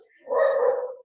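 Dogs barking and snarling in a scuffle, one short close burst of about a second, loud and rough with a whining edge.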